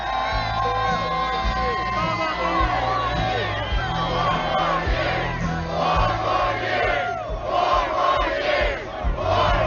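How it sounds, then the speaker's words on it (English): Trump supporters at a hyped-up rally in Kenosha, Wisconsin, roar as one continuous loud crowd, with cheering, whooping and shouted chants swelling throughout. "the Wisconsin crowd here is hyped up"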